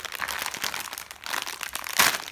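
Plastic puzzle bag crinkling and rustling as it is opened by hand, close and fairly loud in quick irregular bursts, with a sharper crackle near the end.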